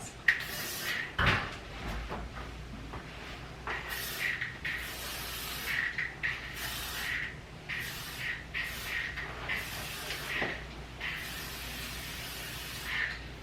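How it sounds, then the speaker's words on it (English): Several short hissing sprays of cleaner on a shower floor come in bursts, separated by pauses and a few faint knocks, close by and fairly quiet. "I don't know why I spray the shower floor,"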